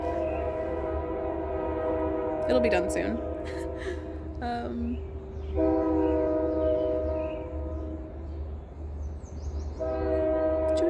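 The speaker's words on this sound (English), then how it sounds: "I love the train that goes by." A long train rumbles steadily past at night with low, continuous rail noise and a long horn sounding several times; a person speaks briefly over it.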